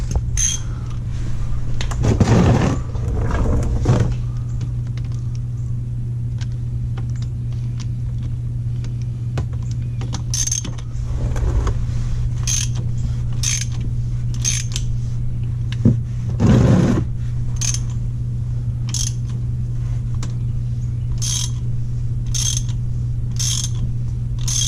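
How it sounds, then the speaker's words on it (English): A 24 mm wrench turning the oil filter cap on a BMW E60 M5 with the S85 V10: intermittent ratcheting clicks and a few creaking turns, close, over a steady low hum. "now we're going to remove the oil filter cap itself, and this is a 24 millimeter"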